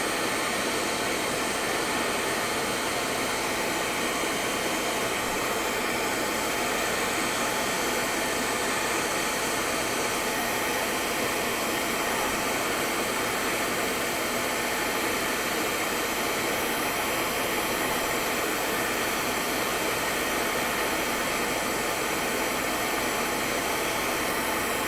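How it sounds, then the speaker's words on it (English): CNC milling spindle running with dust suction switched on, a steady loud broadband roar and whine that holds unchanged for the whole stretch, with no talk over it. "I'm just going to stop the spindle for a second and turn off the suction"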